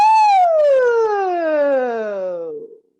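A single voice imitates a police siren, a loud sustained tone gliding smoothly downward from high head voice to low over about three seconds before fading out.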